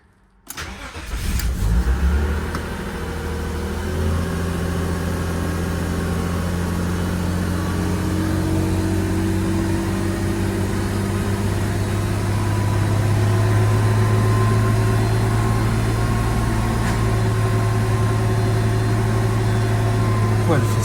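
A BMW M3 engine catches with a start, then holds a steady, rumbling idle that runs close up for the whole length, with the pitch rising slightly as it revs.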